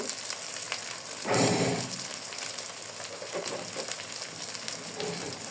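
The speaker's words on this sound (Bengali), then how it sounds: "এখন মশলাটাকে ভালো করে কষিয়ে নেবো" Spice masala sizzles and fries in a pan during home cooking, with a louder burst of hissing early on, then settling into a steady, moderately loud crackle with no talking.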